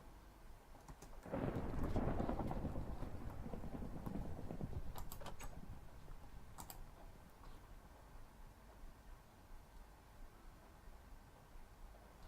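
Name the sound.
rain and thunder in video game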